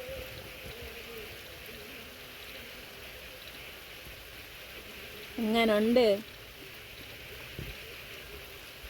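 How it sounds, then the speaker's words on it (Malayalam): Steady rain falls throughout as an even, close hiss, and a person speaks briefly near the middle. "മഴ പെയ്യുന്നു,"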